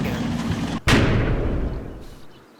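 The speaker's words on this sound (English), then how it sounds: "now my mortars are falling more on the right spot" Mortar shells land and explode in the Normandy wargame Combat Mission: a loud, sharp blast at about one second, with a rumbling tail that slowly fades over a low ongoing battle din.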